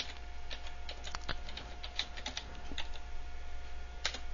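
A computer keyboard typing a file name: a quick, irregular run of light, close key clicks over a steady low hum, with no voices.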